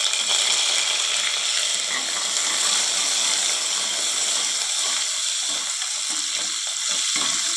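Onions and curry leaves fry in a pan with cumin, giving a steady, dense sizzle that holds close and fairly loud throughout, with no one speaking.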